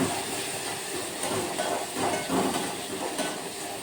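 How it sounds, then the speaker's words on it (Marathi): Steady rolling hiss and bubbling, like water at a full boil in a pot, continuous and fairly loud with no voices. "इथे पाण्याला पण उकळी आली आहे, याला झाकून देते."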